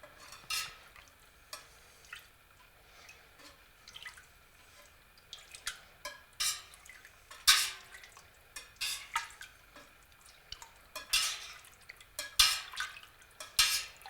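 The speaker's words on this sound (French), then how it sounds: "on va commencer à brasser doucement, continuellement, pendant 1 heure" Cheese curds for a Blason cheese are stirred gently in a pot, making soft, irregular liquid sloshes and drips with occasional sharper splashes against the pot, fairly quiet with no talking.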